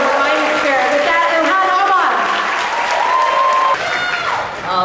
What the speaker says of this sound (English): she deserves a round of applause from the 12th Congressional District